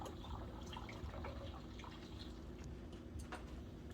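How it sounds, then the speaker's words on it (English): Two cups of water poured into a large jar or bottle while mixing a homemade citrus vinegar cleaner, a steady close splashing and trickling fill that runs alone throughout. "I'll rinse it off with the 2 cups of water that's going in here as well."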